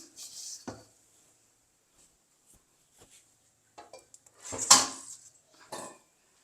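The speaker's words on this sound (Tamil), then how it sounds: "இப்போ தேங்காய் பூவும் சேர்ந்து கொஞ்சம் வறுப்படட்டும்" Sri Lankan-style egg flour dry-roasting with grated coconut in a pan, with a few sparse spatula scrapes and clinks against the pan and quiet gaps between them, close but faint, no talking.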